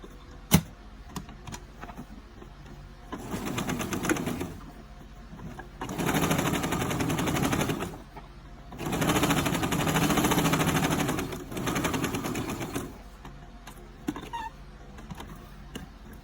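A Brother 2600i sewing machine stitches shirring fabric in several bursts of rapid, even mechanical chatter, close and clear, separated by short pauses and light handling clicks.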